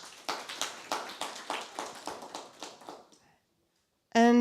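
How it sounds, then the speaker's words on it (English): A small audience at a governance internship convocation claps in a slow, regular rhythm of about a dozen distinct claps, which stop abruptly into silence before a voice begins. "A clap for him."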